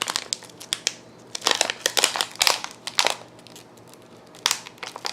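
Sealed packaging of a holographic powder being cut and pulled open up close: a run of sharp plastic crinkles and crunchy crackles in irregular bursts.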